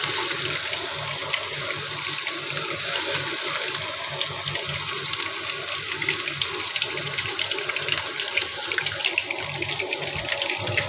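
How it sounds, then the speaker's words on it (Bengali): Goli kebabs fry one by one in hot oil, a continuous broadband hiss and sizzle heard close and fairly steady, with no talking over it. "একটা একটা করে এখন আমি গলি কাবাবগুলো ভেজে নিচ্ছি।"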